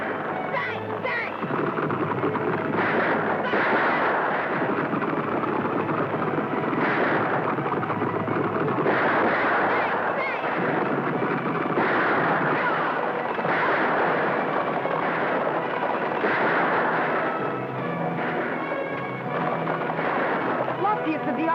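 Gunfire from a western TV show rings out in repeated loud shots over a busy, dense background, with voices mixed in.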